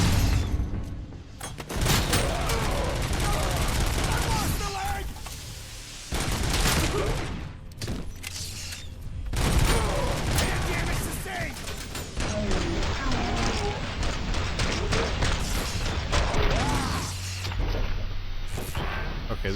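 Dense bursts of gunfire in the RoboCop video game, sustained shooting with booms and rapid volleys, loud and continuous with brief pauses, a voice talking over parts of it.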